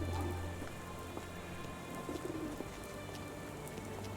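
Steady rain falls in the video game Sherlock Holmes: The Awakened, a constant wash of drops on surfaces with a few faint bird calls mixed in, with no one talking.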